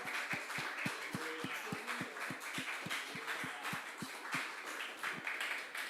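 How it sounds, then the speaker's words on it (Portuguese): Congregation clapping in steady rhythm during worship in a church, sharp evenly spaced claps repeating alone over a soft, distant room wash. "Aplauda o Senhor"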